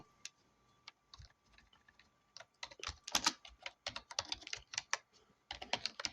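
Keys clatter on a computer keyboard as code is typed, quiet and close, in irregular bursts that start sparse and then grow into denser rapid runs, with no talking.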